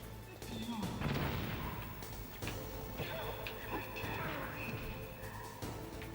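Stun grenade going off in the video game Metal Gear Solid, a sharp crashing blast early on followed by scattered bangs and clatter, with voices faintly underneath.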